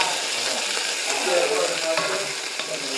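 Onions frying in a pan in sausage drippings, a steady close sizzle with light stirring scrapes running through, with no speech.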